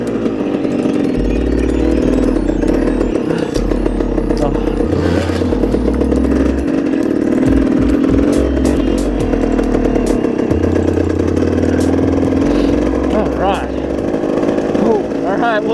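A 200cc motorcycle rides along with a steady, loud engine drone that rises and falls in pitch, with a voice speaking over it.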